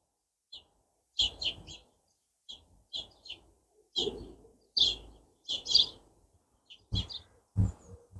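A fledgling sparrow chirps close by in a wild Welsh garden in midsummer, giving a series of short, sharp cheeps in irregular bursts with brief pauses, near and fairly clear over quiet outdoor background.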